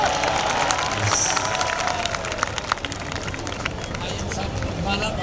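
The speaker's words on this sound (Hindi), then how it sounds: "जोरदार तालियों स्वागत।" Crowd applause and cheering at an outdoor shobha yatra procession of a religious ministry, a dense continuous wash of clapping mixed with crowd noise and babble, steady and fairly loud throughout.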